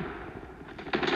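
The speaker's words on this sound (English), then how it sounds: "So I was shooting one person and two people shooting at me" A fast rattle of gunfire from a Call of Duty Mobile firefight, moderately loud and close, swelling into a sharper, louder burst near the end, with no talking.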